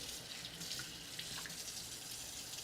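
Water runs steadily from a kitchen tap while chopped peppers are rinsed under it, a faint continuous hiss and splash alone with no talking.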